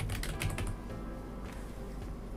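Quiet, close keyboard typing on a computer, a quick burst of soft key clicks at the start followed by a few sparse taps against low background hum.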